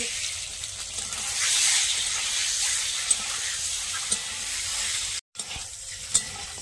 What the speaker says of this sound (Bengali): ডিমটা ভাজা হয়ে গেছে, এবারে তুলে নিচ্ছি